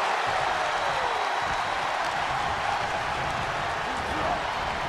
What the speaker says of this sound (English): When you're in an atmosphere like this, where you can't hear yourself think because the crowd's so loud